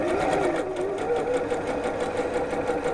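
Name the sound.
sewing machine stitching along a line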